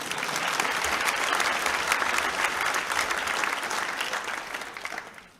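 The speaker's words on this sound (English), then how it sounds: "a round of applause" Audience applause at a graduation ceremony for animation arts students, dense continuous clapping from a large crowd that holds steady for several seconds and then tapers off at the end.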